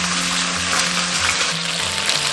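Eel pan-frying in a wok until golden on both sides with sliced ginger and garlic, giving a steady, close, continuous sizzle with no speech.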